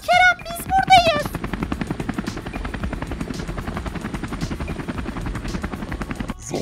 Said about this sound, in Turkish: İşte helikopter geldi.